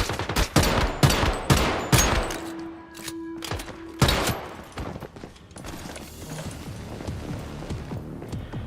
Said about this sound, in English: Where are the bullets coming from?